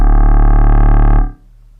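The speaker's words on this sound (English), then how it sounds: "And then I'm just going to distort the shit out of it." A heavily distorted synth oscillator patch in Ableton Live, a loud steady buzzing drone for just over a second before it cuts off abruptly, leaving a quieter tail.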